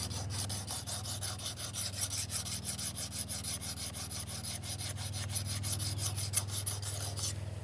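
A crook knife blade is sharpened on a first pass with steady back-and-forth rasping strokes. The strokes are dense and rhythmic, moderately close and continuous, with no talking.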